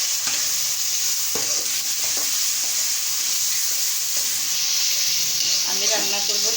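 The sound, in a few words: garlic paste added to a frying pan and stirred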